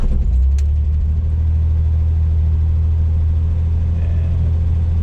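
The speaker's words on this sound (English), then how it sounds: "we're going to do a cold start here with Remy, just so you can see what he's like to fire up when the engine's cold." A 1962 Chevrolet Corvair 700 Wagon with a rebuilt engine fires up from cold and settles into a loud, steady low rumble at high idle, running continuously throughout.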